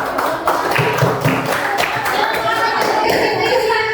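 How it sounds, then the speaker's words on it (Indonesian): A classroom of students clapping together in applause, a dense run of overlapping hand claps lasting throughout, fairly loud and close, with some voices mixed in. "Oke, tepuk tangan."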